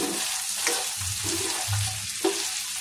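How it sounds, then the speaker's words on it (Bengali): Chopped onions fry in hot oil with spices while being stirred, giving a steady close sizzle with soft scraping strokes of the spoon across the pan. "পেঁয়াজ দেওয়ার পরেও কিন্তু 1 মিনিট মতো নাড়াচাড়া করতে হবে"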